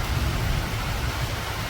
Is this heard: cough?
no